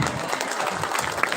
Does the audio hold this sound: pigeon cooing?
no